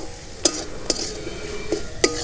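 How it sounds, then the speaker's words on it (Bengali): Chili and coriander powder sautéing in a pan, a low sizzle under four sharp spatula knocks against the pan at irregular intervals, close and without speech. "এবার ভালো করে এই মশলাটাকে একটু কষিয়ে নিতে হবে।"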